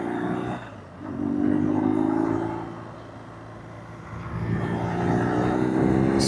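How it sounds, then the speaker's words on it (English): Air-cooled BMW R nineT boxer twin motorcycle engine running with a steady low rumble, the revs swelling, easing off, then building again, loud and close with no talk over it. "type of engine noise with the Boxer engine, although this one being the older air-cooled, oil-cooled engine"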